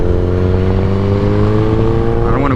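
A repaired motorcycle with velocity stacks on a test ride, its engine a loud, close, steady droning whir that climbs slightly in pitch toward the end.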